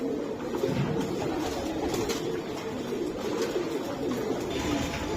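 Racing pigeons coo in a steady, continuous murmur, fairly close, with overlapping low calls and no talk.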